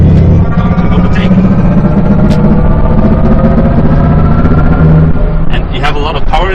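A Mercedes EQC electric car under hard acceleration gives off its synthetic drive sound, a steady loud humming tone from inside the cabin, with a voice talking over it throughout.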